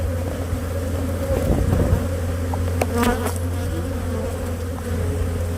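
Honey bees buzz in a steady, close, dense drone with a low hum underneath and a few individual bees whining past, loud and without speech.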